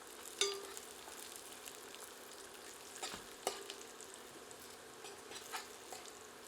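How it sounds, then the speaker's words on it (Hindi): Cashews and onions fry over medium heat with a soft, continuous sizzle, and a spoon clinks and scrapes against the pan now and then, close but fairly quiet with no voices. "इन्हें भी प्याज के साथ मिलाकर 2 से 3 मिनट मध्यम आंच पर भून लेते हैं।"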